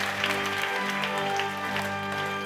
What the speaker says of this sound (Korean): 우리에게 참된 소망과 능력을 주신 주님께 감사와 영광의 박수 올려드리겠습니다